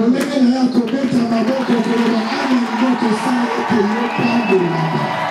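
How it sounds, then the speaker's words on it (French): A church congregation at a Sunday service cheers, whoops and calls out together, a dense continuous wash of many voices that stays loud and steady throughout. "les cris de joie et les amens."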